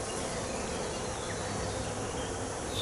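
Bees swarm around an open beehive during an inspection, a steady, dense buzzing hum that fills the scene evenly and close by, with no talking over it.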